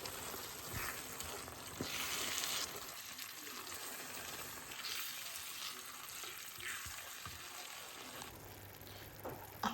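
A catfish dish sizzles steadily in a pan while it is stirred, with soft scrapes and a few light knocks over a constant, fairly quiet frying hiss.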